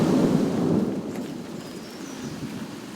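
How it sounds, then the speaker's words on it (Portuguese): Heavy rain pouring down in a forest with a deep low rumble of thunder, a loud steady wash of rainfall that eases slightly as the rumble fades, no voices. "Foi preciso esperar passar a chuva forte, que trouxe vida à floresta"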